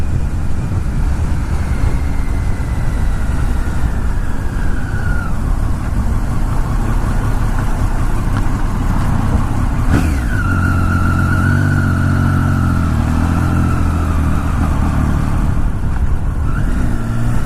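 Steady engine and road roar from a motorcycle commuting on a Tokyo highway during morning traffic, with passing vehicles whooshing by and a rising rev near the middle, close and continuous with no talk.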